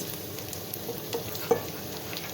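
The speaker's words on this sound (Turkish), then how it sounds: "soğanımız burada hala pişmeye devam ediyor. Ara ara yanlaması için de karıştırıyoruz." Onions fry in a pan with a soft, steady sizzle, punctuated by a couple of faint clicks from stirring, close and quiet.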